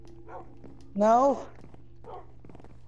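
Minecraft dogs give a single loud yelping bark cluster near the middle, with faint softer yips before and after, over a steady game background hum; people talk around it.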